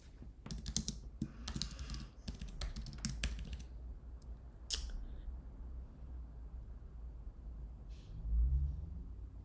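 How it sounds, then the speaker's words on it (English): Clicking keystrokes on a computer keyboard during a programming lecture, a burst of quick irregular taps early on, then sparse isolated clicks over a low room rumble, quiet and close. "And you can hear me typing."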